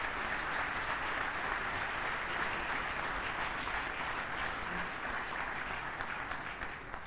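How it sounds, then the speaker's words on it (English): A large audience gives steady, continuous applause after an inaugural speech at a diplomatic conference in Delhi, heard as a broad, even wash of clapping from across a big hall. "please join me in applauding a wonderful inaugural speech."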